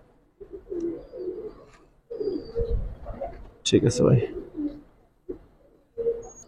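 Giribaz pigeons coo in low, throaty bursts close by at a loft, mixed with a voice talking over them.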